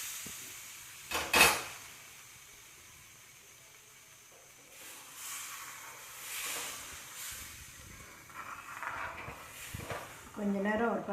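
Mor kali, a buttermilk and ground rice batter with green chillies and curry leaves, is stirred steadily in a pan over medium heat. It gives quiet scraping and an occasional louder clack of the spoon against the pan over a soft hiss.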